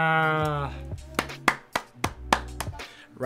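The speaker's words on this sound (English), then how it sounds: "Round of applause for myself." A single person claps several times in a quick, uneven burst of sharp, close hand claps, right after a voice trails off.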